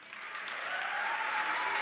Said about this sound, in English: Round of applause there for Dr. Awamle.